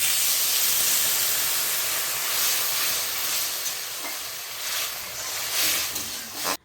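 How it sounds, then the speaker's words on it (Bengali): Water poured into a hot pan of fried taro, giving a loud, steady steaming hiss and sizzle that carries through the whole stretch before cutting off abruptly at the end, with no talk over it. "ভাজা ভাজা হয়ে গেছে, এখন আমি পরিমাপ মতো জল দিয়ে দেবো।"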